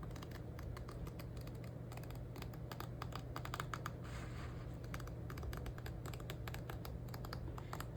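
Rapid, irregular crisp snips and small clicks from scissors trimming the edges of heavy canvas, close up, steady over a low hum.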